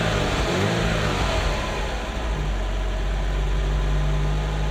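A Ferrari Mondial engine running after a cam belt change and valve clearance work, a steady loud low engine drone with a slight rise in pitch early on, then settling into an even hum, no talking.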